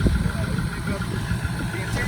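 A Ford 6.0 Powerstroke diesel truck engine with stock exhaust and 311,000 miles idles close by with a steady low rumble and even chugging, while a voice is faintly present over it.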